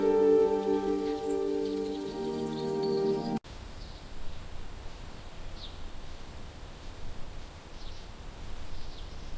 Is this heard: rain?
yes